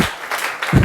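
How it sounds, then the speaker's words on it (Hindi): Children at a stage event in India break into a short burst of loud, dense applause, lasting barely a second. "बच्चे तालियां बजाएंगे JP सर के लिए"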